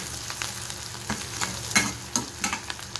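Garlic and onion frying in a tadka with chana dal, a soft steady sizzle with a few louder crackles and stirring scrapes, close and alone without talk.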